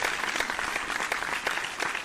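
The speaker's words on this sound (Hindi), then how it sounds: "जोरदार तालियां" A quiz-show audience at a religious gathering breaks into hearty applause, fairly distant but dense and continuous, with individual claps rippling through the crowd sound.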